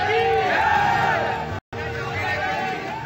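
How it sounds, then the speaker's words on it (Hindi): Agitated street crowd chanting Bharat Mata ki Jai slogans during a road blockade and scuffle with police, a loud, dense wall of rhythmic shouting voices with a brief dropout midway. "पीछे से भारत माता की जय के नारे लग"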